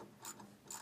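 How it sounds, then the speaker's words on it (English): Ratchet wrench clicking while tightening the 13 mm mounting bolts on a leaking power steering pump of a Dodge Ram 2500, two short bursts of close, crisp pawl clicks. "So now we're going to go max tighten all the bolts to the max"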